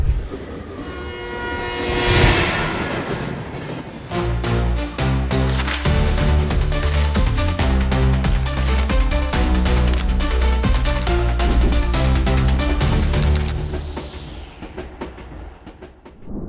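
A train horn blows as a train moves along the track, its rhythmic rumbling and clatter sustained before fading away at the end.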